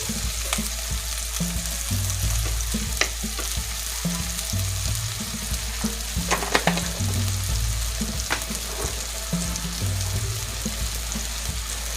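Masala sautéing in a pan for crab curry, a continuous close sizzle with intermittent scraping stir strokes and a few sharper clinks, with a low steady hum underneath and no talking.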